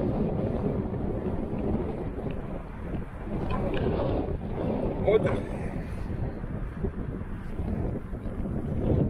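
Steady wind buffets the microphone with a low, continuous rumble in open country during April sleet, while a voice speaks briefly near the start.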